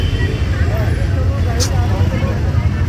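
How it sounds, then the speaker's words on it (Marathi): Evening road traffic hums as vehicles sit in a jam, a continuous low rumble of engines with a brief horn-like tone, while people talk over the noise near the microphone. "काही ट्रॅफिक आहे यार. आम्ही अजून इथेच अडकलो आहे."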